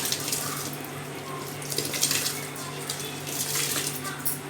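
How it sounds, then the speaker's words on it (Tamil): Seeraga samba rice goes into a pot of boiling water, giving a continuous bubbling, splashing wash of sound at moderate loudness with small irregular bursts. "நான் அரிசியை போட்டுக்கிறேன்."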